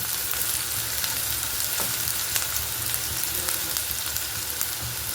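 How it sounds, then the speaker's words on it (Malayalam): One sliced onion sautéing in a tablespoon of coconut oil in a kadai, giving a dense, loud, even sizzle throughout with faint occasional stirring ticks and nobody speaking. "അതിലേക്ക് 1 ടേബിൾ സ്പൂൺ വെളിച്ചെണ്ണയാണ് ഒഴിച്ചു കൊടുത്തിരിക്കുന്നത്. ഒരൊറ്റ സവാള ഇട്ട് കൊടുത്താൽ മതി. ഒന്ന് വഴന്ന് വരട്ടെ."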